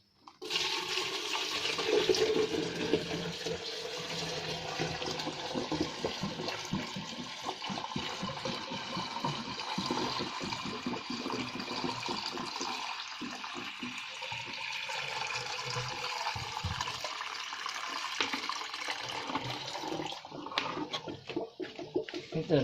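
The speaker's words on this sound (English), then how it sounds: "we'll put a couple of buckets of water as a primer" Buckets of water poured into a pool pump to prime it during a rebuild of an Onga pool pump, a steady gushing and splashing pour that runs for about twenty seconds before tapering off.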